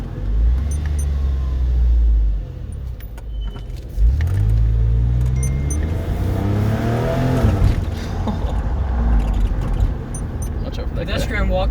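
Engine of a 2001 Porsche 911 Carrera 4 (996) after a downshift, a loud rev that drops then climbs again in pitch under road rumble, with someone talking over it.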